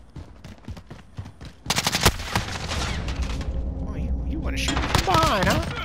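Rapid bursts of automatic gunfire and sharp shots from Call of Duty: Modern Warfare multiplayer crackle loudly and close, following earlier scattered shots, with a player's voice talking over the firefight.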